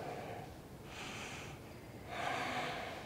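Slow, deep breaths during a vinyasa yoga flow, two soft airy exhales whooshing one after another, faint and close in a quiet room.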